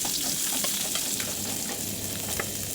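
Garlic frying in cooking oil for tinola chicken soup, a close, continuous sizzling hiss with faint crackles and occasional stirring taps and no speech.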